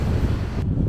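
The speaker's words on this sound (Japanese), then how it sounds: "風がまあまあ強いね" Fairly strong wind gusts near the Kasumi fishing port in Hyogo, Japan, as a loud, low rumble buffeting the microphone in one brief burst with no talking.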